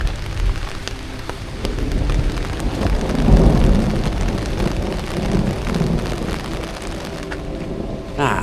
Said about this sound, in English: It's protecting me from the rain